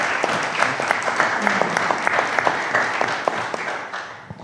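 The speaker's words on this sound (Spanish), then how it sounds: "un pequeño aplauso para los integrantes del panel" Audience applause for the members of a panel at a financial-education discussion between a finance ministry and a university, a dense, steady round of clapping with a few sharper claps that tapers off near the end.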